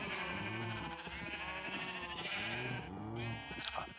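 Sheep in a survival video game bleat over and over, loud and close, several wavering calls overlapping across the whole stretch with no talk.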